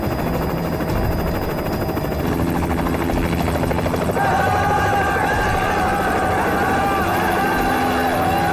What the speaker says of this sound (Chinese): 既然有直升飞机飞过